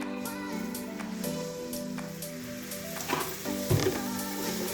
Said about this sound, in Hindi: मैदा भून गया तो अब मैं इसके अंदर डाल दूँगी थोड़ा सा दूध